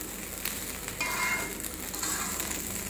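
Broken rice (khud) dry-frying in a wok makes a steady soft sizzle and rustle, with scraping stir strokes at intervals, close and continuous with no voices.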